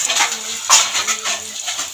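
Chopped tomatoes added to a pot of bhuna chicken and stirred, giving a short run of close metallic clinks and scraping of a utensil against the pot.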